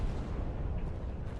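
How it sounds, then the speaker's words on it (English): A heavy industrial vapor-cloud explosion rolls through a process plant, a loud, deep, rumbling blast that sustains throughout, with no talking. "Powerful explosions swept through the area."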